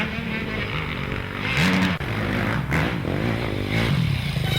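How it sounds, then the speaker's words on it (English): Motocross motorcycles race at an Action Sports GP round, a Suzuki among them, their engines a loud continuous drone that rises and falls as bikes rev and pass nearby. "Here comes Kilbarger on the Suzuki"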